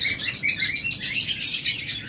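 Java sparrows chirping in a sale setting, a dense, continuous chatter of high, quick tweets from several birds close by with no pauses.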